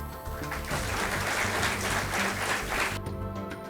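An audience at an Indian poetry event at a business school applauds to welcome a poet, with steady sustained clapping that fills the room for a few seconds before it begins to fade.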